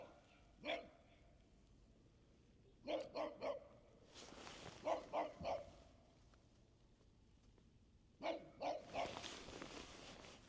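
A dog barks beside a frozen lake during ice fishing, letting out several short clusters of sharp barks with pauses between them. The barking sounds somewhat distant and faint over quiet outdoor background.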